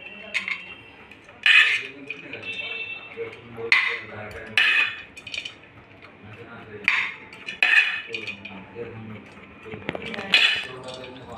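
Chinese sev scooped from a pan into a bowl with metal utensils, a series of sharp clinks and scrapes every second or two, with a voice talking quietly beneath.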